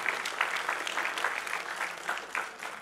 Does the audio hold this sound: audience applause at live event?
yes